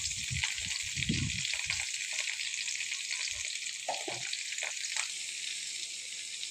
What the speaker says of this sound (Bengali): এই দেখো কপি ভাজছি, কপি ভাজা চলছে।